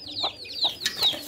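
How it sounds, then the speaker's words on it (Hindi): A hen clucks in short, close, repeated calls, with thin high cheeping from her chicks layered in, around four quick bursts with no talk. "ये हमने एक मुर्गी इधर हमने बंद की हुई है"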